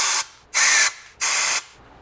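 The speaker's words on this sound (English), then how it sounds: "Yeah, this is just compressed air." Two bursts of compressed air blown through a Honda K24 engine with a spark plug removed, each a loud, steady hiss lasting about a third of a second, separated by short pauses.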